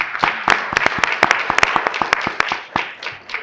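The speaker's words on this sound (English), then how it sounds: "I'd like to give them a round of applause just for helping us out on their time" A small group at a board meeting gives a short round of applause, distinct individual claps sounding close and crisp in an uneven rhythm before tapering off.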